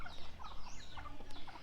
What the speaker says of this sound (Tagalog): Ayan yung mga babae natin na manok.